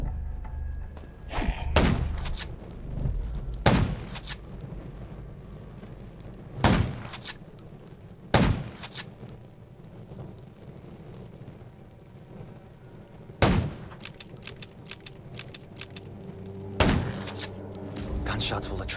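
Several sharp gunshot bursts fire at irregular intervals over a low rumbling backdrop in the zombie video game Undawn, loud and close, with stretches of quieter ambience between them.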